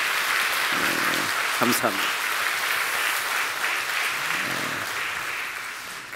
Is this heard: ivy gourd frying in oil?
no